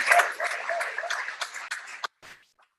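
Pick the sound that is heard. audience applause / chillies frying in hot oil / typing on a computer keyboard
audience applause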